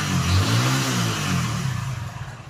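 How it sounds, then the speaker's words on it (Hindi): A Hero Splendor Pro motorcycle engine with excessive crank noise runs steadily up close, a low throbbing idle that turns into a rougher, rattling knock toward the end, with no voices. "देखिए बहुत क्रैंक का साउंड बहुत ज़्यादा आ रहा है।"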